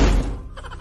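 A person bumps into a door with a single heavy, dull thump at the start, which fades quickly into a faint rustle.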